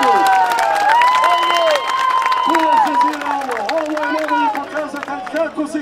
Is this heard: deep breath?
no